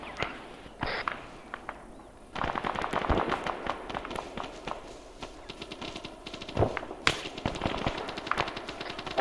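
Gunfire in Arma 3 during a 6th Airborne Division training exercise, with rapid machine-gun bursts and scattered single shots. The firing is dense and keeps going for most of the stretch, at varying distances.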